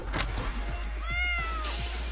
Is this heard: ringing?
no